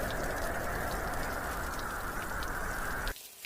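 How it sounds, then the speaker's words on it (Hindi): Heavy rain in a Hindi cartoon, a dense, loud, continuous hiss that pours steadily and then cuts off abruptly near the end. "कुछ ही देर में घनघोर बारिश शुरू हो जाती है।"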